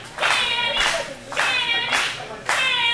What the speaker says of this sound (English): you gotta listen to the crowd here at the MPW arena